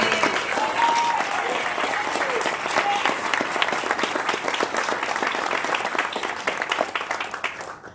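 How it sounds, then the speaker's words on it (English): A room full of people at an Army town hall applauds award recipients, the dense clapping holding strong and even before thinning and fading at the end. "Please join me in a round of applause congratulating these outstanding awards."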